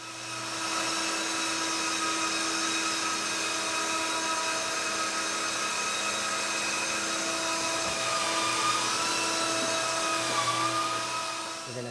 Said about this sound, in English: This is our brand new sander with a vacuum attachment.